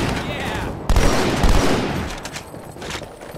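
A grenade blast and rapid gunfire in the Halo 2: Anniversary video game: two heavy, close booms land in quick succession over a steady rattle of shots, then fade into scattered, fainter bursts.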